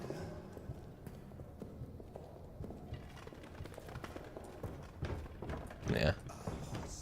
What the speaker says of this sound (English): I'm hearing footsteps all around me.